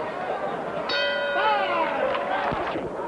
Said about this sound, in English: The bell in about 5 seconds here in New Orleans.